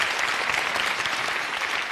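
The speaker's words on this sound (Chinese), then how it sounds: "掌声送给他。" Studio audience at a Chinese televised job-hunting show bursts into steady, dense applause, a continuous wash of clapping filling the whole moment with no voices on top.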